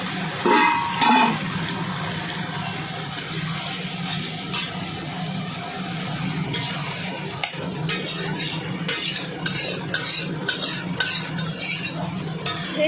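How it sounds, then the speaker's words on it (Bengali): Spices for a Bengali fish curry (maacher jhol) with coriander and cumin powder, ginger paste, salt and turmeric are stirred and fried in a pan, with wet sizzling and repeated metal spatula scrapes and clinks up close, no talking. "একটু কষানো হয়ে যাক তারপর জল দেবো"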